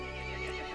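A brief, harmonically rich horse whinny from the video game Resident Evil Village, a single sustained call lasting under a second, fairly faint and heard alone without speech.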